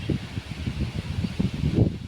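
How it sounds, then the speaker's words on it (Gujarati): Gusty wind moving through trees over an open farm field where water is being channelled, a steady rustling roar with soft buffeting surges, close and fairly loud, with no voices. "વાયરો કેવો આવે છે, જો વાવાઝોડું આવે"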